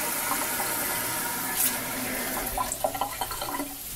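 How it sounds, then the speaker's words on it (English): About a cup of water poured for homemade jalapeño hot sauce, a steady splashing, running-water rush that thins into a few drips and clinks near the end, close and fairly quiet. "we're going to need some water for this hot sauce we're making"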